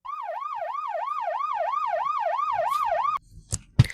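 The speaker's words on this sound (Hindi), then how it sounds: "पुलिस की सायरन बजाती जीपें सड़कों पर अपनी गश्त में" A police jeep's rising-and-falling wail siren on street patrol cycles rapidly and steadily for about three seconds, then cuts off, followed by a couple of brief clanks.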